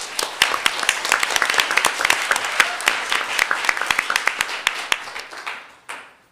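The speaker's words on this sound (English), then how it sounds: "Let's give him a big round of applause." Applause at a school district board meeting, a steady patter of clapping from a modest crowd in a room, fading out over the last second before a brief final sound.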